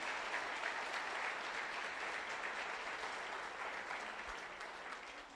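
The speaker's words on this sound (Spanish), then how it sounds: "Alguien que le dé un aplauso al Señor." A church congregation applauding, a dense sustained clapping from a large crowd that holds steady and fades slightly toward the end.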